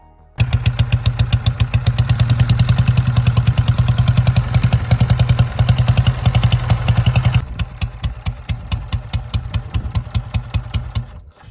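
A Mettless Silver Arrow 400 motorcycle with a narrow-angle V2 engine idles close by in a loud, uneven, rapid thumping pulse, then settles into a slower, quieter beat with a slight rattle.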